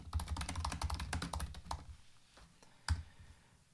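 Rapid clicking of keys on a computer keyboard as a short message is entered into a web signing form, steady for about two seconds, then a few scattered taps and one sharper click.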